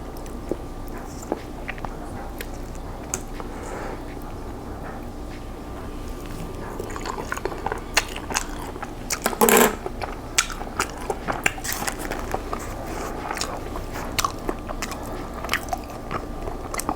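Someone bites and chews Wingstop hot honey chicken wings, crisp crunches and wet chewing sounds repeating close to the mic over a steady low background, with one louder crunch partway through.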